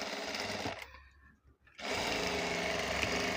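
Sewing machine stitching a blouse at close range, a fast continuous whirr that stops for a brief moment before starting up again.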